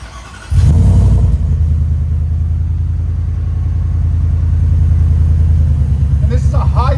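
An 850+ hp supercharged Ford F-150 5.0L V8 with headers and a Borla S-type straight-through muffler on a Y pipe fires up and revs, then holds a loud, deep, steady engine drone close by.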